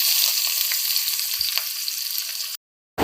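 Onions crackle and sizzle as they fry into crisp beresta in oil left over from frying katla fish, a steady close broadband hiss with small pops that cuts off abruptly near the end.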